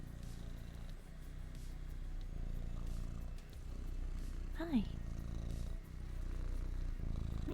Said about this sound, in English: Hi, Mr. Kitty Cat